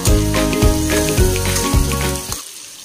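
Chicken pieces with cumin, coriander, green chilies and chopped tomato frying together in a pan, a loud close sizzle broken by several rhythmic stirring scrapes before it quiets at the end.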